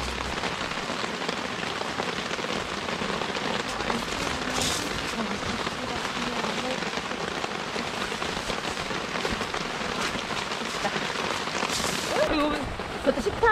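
Heavy rain pours steadily at a valley campsite in Gapyeong, a dense, constant patter and hiss close by, with voices faintly in the background.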